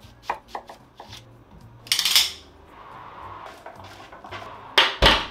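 A knife chops down through an onion on a cutting board, a few sharp separate knocks early on, a louder cluster near the middle and two strong cuts at the end, close and clear with no talk.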